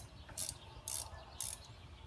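Ratchet wrench clicking as spark plugs are tightened on a 2010 Toyota Corolla S; three short bursts of rapid ratcheting, close up and clear, with brief pauses between strokes.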